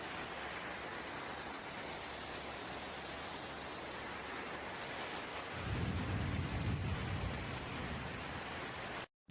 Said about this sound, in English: The very strong storm then moved slowly and finally stopped at Pic Saint Loup.